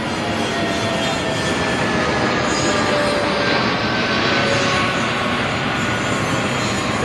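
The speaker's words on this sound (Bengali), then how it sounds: "এই যে প্লেন।" An airplane drones overhead above Patenga beach in Chittagong, a steady, fairly loud broadband roar that holds without a break.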